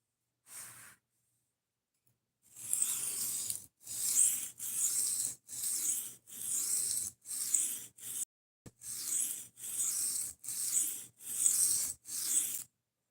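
A knife blade is filed to remove a burr, producing a run of about ten rhythmic, close rasping strokes with short pauses between them and a lone stroke at the start.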